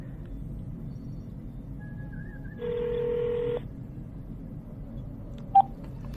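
A telephone call rings once as a single electronic tone lasting about a second, faint over a low steady rumble, followed by a brief click.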